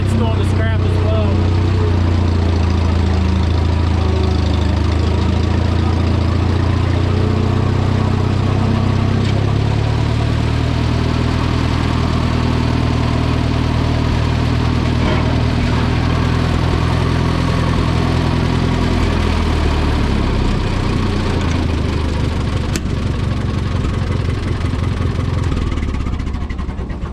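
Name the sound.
tractor engine idling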